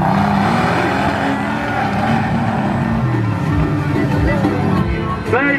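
Cars race side by side at an Ocú street race in January 2018, a six-cylinder against an eight-cylinder, their engines roaring and revving loudly up close with shifting pitch. A crowd clamours underneath.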